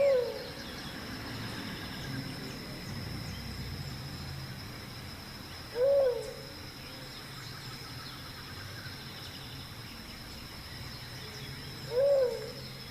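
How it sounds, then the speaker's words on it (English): A Tolima dove (Leptotila conoveri) gives two soft, low hooting coos about six seconds apart, alone over a steady hiss of insects and ambient background. "this is the Tolima dove. The scientific name is Leptotila conoveri."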